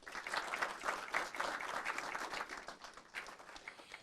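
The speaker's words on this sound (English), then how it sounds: "Let's give her a round of applause." A city council meeting room full of people applauding, steady dense clapping that holds for several seconds without voices over it.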